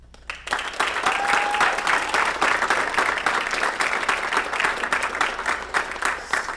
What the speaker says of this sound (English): Please give them a round of applause to thank them for their support